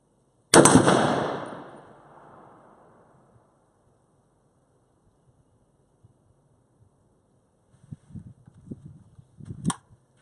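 A Molot VEPR .308 AK rifle fires a single loud, sharp shot outdoors that rings out and fades slowly. Quiet stretches follow, then faint clatter and a short crisp snap near the end.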